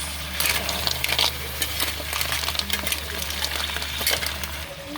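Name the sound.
stirring mussels in a cooking pot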